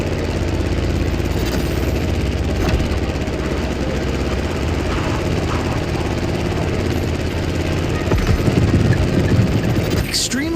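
Loud, steady drone of an airplane engine in The Crew Motorfest video game, a continuous rumbling buzz close up throughout, swelling slightly near the end.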